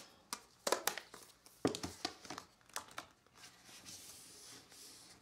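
A planner sticker is handled and pressed down with quiet, close crinkling and papery crackles in short uneven bursts, easing into a soft rustle at the end, with no voices.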